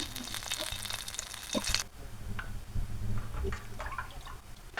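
Mustard oil and dried red chillies crackle and spit in a hot pan, a dense, close sizzle with scattered pops that briefly eases before picking up again.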